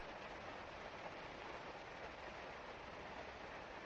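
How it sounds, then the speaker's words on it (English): Steady, soft hiss of rain falling continuously, an even broadband wash with no distinct drops or pauses. "I don't really miss listening to rain though."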